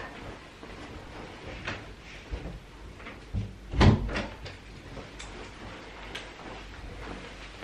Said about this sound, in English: I'm going to shut this door because the scaffolders are putting scaffolding up